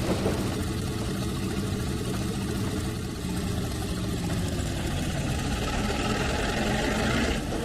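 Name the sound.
locomotive engine idling in video game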